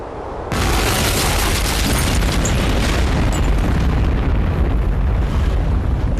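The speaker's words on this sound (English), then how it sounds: "For 49 days, Mehmed's cannons pounded the walls" A loud, deep boom erupts and rolls on as a sustained, rumbling roar of heavy cannon fire, filling the clip after a brief quiet start.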